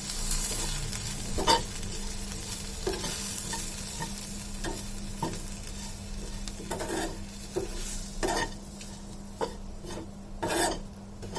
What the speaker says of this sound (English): Saute it well until the tomatoes turns to mushy.